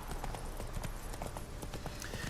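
Horses' hooves clip-clop steadily in The Witcher 3 on PlayStation 4, several animals walking at a slow, uneven rhythm over a continuous background bed of game ambience.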